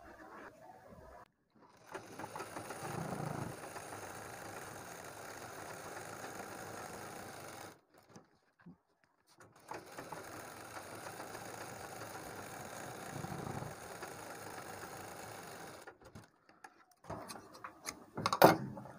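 Blouse fabric being stitched on a sewing machine, a steady motorised whirr that runs in two long bursts with a pause between, fairly close and moderate in level, with a few small clicks at the end.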